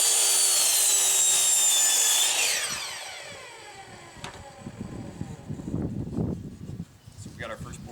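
Cutting a wooden board for yard dominoes: a high power-tool whine spins down, then a series of rough, rasping cutting strokes ring out close by.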